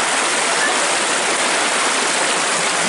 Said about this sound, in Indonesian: Kita akan turun ke sungai ya.